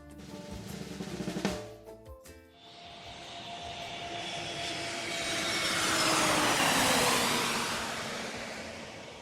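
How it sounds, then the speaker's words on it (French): An airplane taking off, its engine swelling from a low roar into a loud, broad rushing whoosh that peaks and then begins to fade, heard alone with a brief clatter at the start. "c'est le bruit d'un avion qui décolle"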